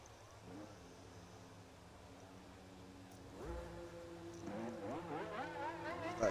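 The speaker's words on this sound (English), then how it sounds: "That's a Ferrari" Ferrari Formula 1 car engine in the F1 24 racing game, a steady mid-pitched drone that swells louder near the end as the revs climb with rising, sweeping pitch.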